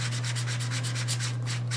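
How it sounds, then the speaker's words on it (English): An emery board is rubbed back and forth over a rough paper surface in a steady, even rhythm of close, scratchy strokes, about eight passes in quick succession over a constant low hum. "take this emery board and go over this whole surface like this and sand off"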